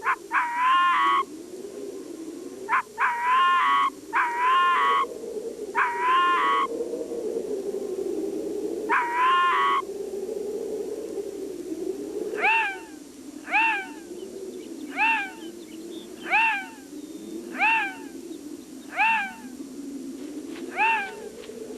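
Two Arctic foxes call back and forth on open tundra, first in sets of rapid, yelping barks, then in a run of sharp, rising single cries repeated at steady intervals over a low background hum.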